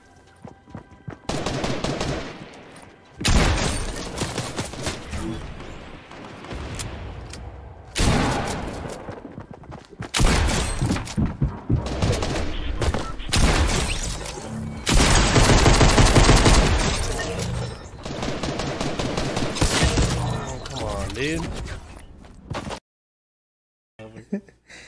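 Bursts of automatic and single-shot gunfire in an Xbox shooter, loud repeated volleys separated by short pauses, with players talking between and over the shots.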